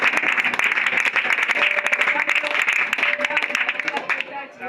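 A church congregation applauds continuously in loud, dense clapping, with voices and cheers mixed in, fading slightly at the end.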